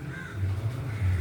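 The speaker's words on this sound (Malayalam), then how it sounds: "അവിടെ ഇരുന്ന് സൗണ്ട് ഉണ്ടാക്കണുണ്ടവൻ." A crow caws nearby from a perch, a short harsh call repeated in quick succession, clear over quiet outdoor background with no talking.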